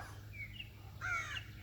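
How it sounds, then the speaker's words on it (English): A crow gives two short caws outdoors, the second louder than the first, over a low steady rumble. "Oh, crow."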